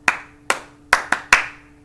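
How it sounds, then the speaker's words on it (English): Children clapping their hands during a preschool letters lesson: five sharp, separate claps, close and loud, with short gaps between them and nothing else around. "Give yourselves a big hand clap."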